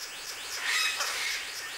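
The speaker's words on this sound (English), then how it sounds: "In the great island of New Guinea, there are 42 different species of birds of paradise, each more bizarre than the last." Birds of paradise call in a New Guinea forest: a dense, steady chorus of high chirps and whistles that swells slightly midway, with no voices.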